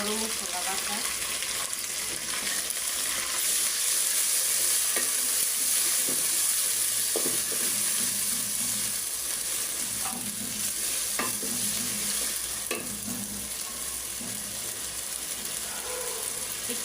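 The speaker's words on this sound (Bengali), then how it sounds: "পেঁয়াজ মশলা আমার বাদামি কালার কইরা বাজা হয়ে গেছে এখন আমি দিয়ে দেবো আদা রসুন বাটা" Onions and spices sizzle and fry in a pan for a beef and potato curry, with ginger-garlic paste going in and a spoon stirring and scraping at intervals; a steady, close hiss runs throughout with no talking.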